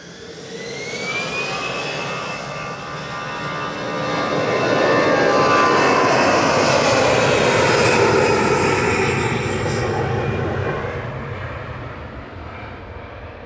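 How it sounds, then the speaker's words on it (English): An EasyJet jet airliner takes off at Manchester Airport, its engines swelling to a loud, close roar with a high whine on top, peaking midway and then easing off slightly as it climbs away. "EasyJet's going first, OEIND taking flight 7270 over to Palma de Mallorca"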